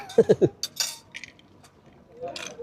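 Glasses clink together three times in quick succession during a family Father's Day meal at a fish-pond restaurant, followed by faint table clatter and brief background sounds.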